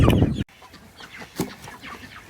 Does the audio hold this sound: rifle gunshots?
no